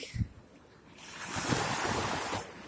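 Waves wash onto the beach at Calang, Aceh Jaya, a short thump followed by a rising, sustained surf rush with some wind noise, fairly close and steady.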